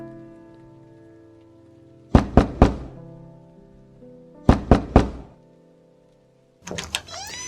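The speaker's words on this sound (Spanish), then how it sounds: "Allá fueron, en efecto, y llamaron a la puerta." Three firm knocks on a wooden door, then another set of three, then a final quicker cluster, each sharp and close against a soft musical background.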